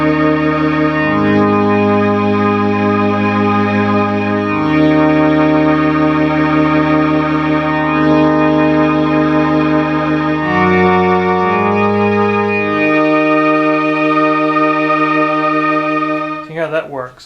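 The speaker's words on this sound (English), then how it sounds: "Turn on our delay here, and you'll actually hear the chorus come in slowly." A Moog synthesizer plays sustained organ chords with a chorus and delay effect gradually swelling in, a loud, continuous tone that shifts chords several times before cutting off at the end.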